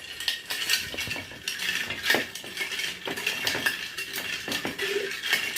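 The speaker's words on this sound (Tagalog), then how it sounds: "We will mix the calamansi juice until it blended the sugar." A spoon stirring calamansi juice with sugar in a glass, repeated quick metallic clinks and scrapes at a brisk rhythm, close and fairly loud with no voices.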